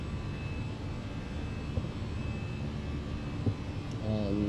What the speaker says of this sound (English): Let's go back and listen to those engines.